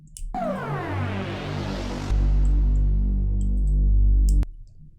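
A synth note with reverb glides steadily in pitch through an electronic dance break, joined by a heavy bass layer partway through before cutting off into a short reverb tail.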